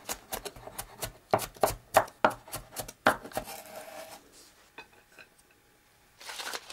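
Garlic is chopped with a knife in a home kitchen, a quick run of sharp blade taps on a board that slows and thins out before a few softer scrapes at the end.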